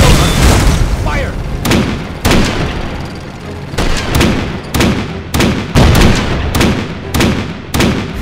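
Jumbo Sherman tank cannon in Road to Valor: World War II, a rapid series of heavy booms and sharp blasts through an eight-second battle, with gunfire and explosions overlapping densely at close range.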